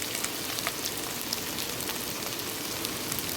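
Chopped ivy gourd (kovakkai) fries in hot coconut oil with garlic, giving a steady, dense crackling sizzle dotted with small pops, close and continuous.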